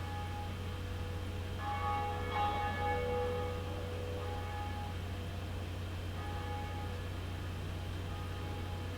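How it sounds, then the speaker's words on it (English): A large bell in Dark Souls rings out with a resonant metallic strike, its overtones shimmering and slowly decaying over a low droning ambience, with a fainter second toll later. "So what we want to do is ring this here bell"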